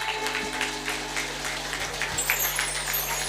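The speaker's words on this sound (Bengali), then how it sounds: "একটু জোরে জোরে হাততালি দিন দেখি" A kirtan audience claps along in a dense, continuous patter of many hands, steady and moderately loud, over a sustained low drone from the performance.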